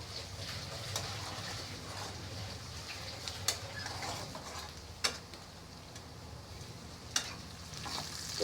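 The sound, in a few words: frying egg masala spices in a pan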